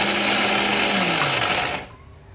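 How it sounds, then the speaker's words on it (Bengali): An electric blender grinds cashews and almonds in a loud, steady whirr whose pitch slowly drops, then cuts off abruptly near the end. "এখানে আমার 100 গ্রামের মতো কাজু আর আমন্ড আছে। আমি এটা এর সঙ্গে অ্যাড করব, করে একসঙ্গে ব্লেন্ড করে নিব।"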